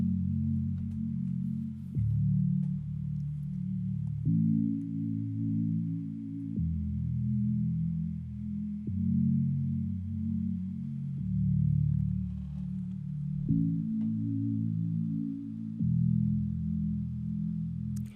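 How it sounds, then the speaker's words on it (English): JH Sign Toys preset from the plugs category of the Hive synth plugin: a loud, steady sequence of sustained low synth chords, changing every couple of seconds with soft attacks, played alone with no voices. "we are using the JH Sign Toys preset under the plugs category"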